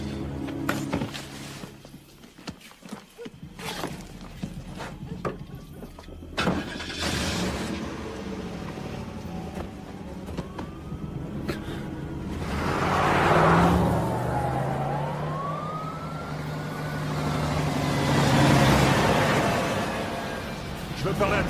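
A car engine starts and the vehicle pulls away, its engine rising in loud surges as it drives off, with doors, clunks and voices talking over the scene.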